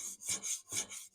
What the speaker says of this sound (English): a convex grind by honing it this way.